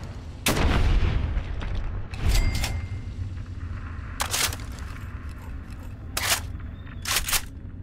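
A .32 rifle fires in the Fallout video game: several loud, sharp cracks spaced irregularly, some close in pairs, each ending abruptly over a low rumbling background.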